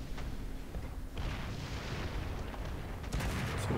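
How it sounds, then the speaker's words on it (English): Rapid 20mm cannon fire from a Panzer II in War Thunder, heard from a Grant Mk.I tank: faint, distant crackling shots with muffled booms over a steady rumble, louder near the end. "Panzer II hitting me with the 20s."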